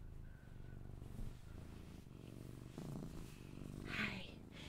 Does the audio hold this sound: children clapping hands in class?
no